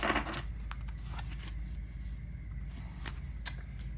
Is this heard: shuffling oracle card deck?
yes